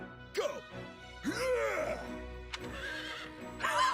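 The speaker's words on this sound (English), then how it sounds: "you hear that horse?" Horse neighing in the video game Fire Emblem: Three Hopes, a loud whinny followed by a second drawn-out neigh and a brief snort, heard alone with faint background music.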